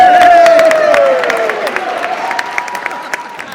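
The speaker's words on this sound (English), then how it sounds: "can we have a little round of applause for Joe now?" Wedding audience giving a loud round of applause and cheers that gradually fade into scattered claps, with a sustained whistle-like tone at the start and voices in the crowd.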